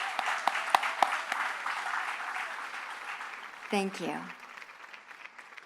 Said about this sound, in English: Could I please get a round of applause for these amazing jury panel members and